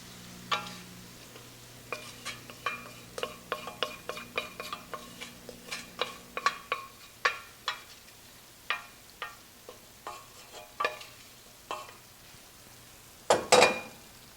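Sauce is spooned over steak in a frying pan, making a steady series of soft clinks and scrapes of a utensil against the pan under a faint hum, with a louder clatter near the end.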